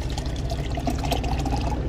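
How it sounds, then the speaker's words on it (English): Clean water running steadily to rinse something off, a close, continuous splashing pour with no voices over it. "we're just going to rinse it with clean water"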